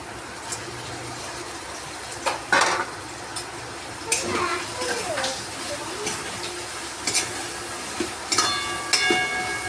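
Fried pointed gourd pieces are tipped into a pan of cooked-down spiced oil and stirred, giving a steady sizzle punctuated by several sharp scrapes and knocks.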